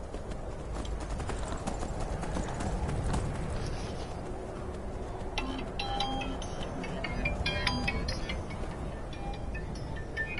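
Horse hooves clip-clopping steadily as a rider travels through the Skyrim video game world, a continuous rhythmic gait over a rumbling ambient bed.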